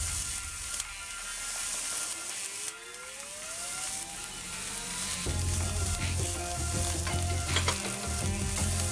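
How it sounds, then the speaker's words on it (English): Garlic and hot pepper fry in hot oil for a Trinidadian eddoes talkari, sizzling steadily and loudly up close, with a stirring spoon scraping the pot and rattling through the sizzle. "chunky just means to fry in oil, in hot oil"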